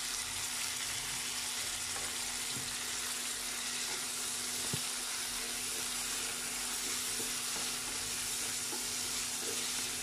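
Onion and tomato sauté in a pan for a South Indian kootu, giving a constant, even, hissing sizzle throughout with an occasional faint tap of a spoon.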